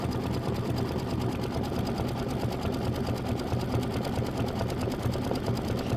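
An embroidery sewing machine hums steadily while it sews a dense satin stitch that holds leather on a mini quilt block. The needle's fast, even rhythm carries on without a break from start to finish, and nobody speaks.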